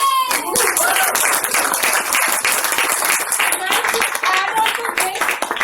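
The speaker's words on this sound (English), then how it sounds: "I need a big round of applause for this." Guests at a company anniversary celebration break into loud clapping and cheering, energetic applause mixed with excited shouts and voices, staying strong across the whole moment.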